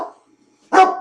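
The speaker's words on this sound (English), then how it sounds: "Doorbell rings and the dog barks." A dog barks after a doorbell rings indoors; a short sound fades at the start, then a single loud, close bark after a brief silence.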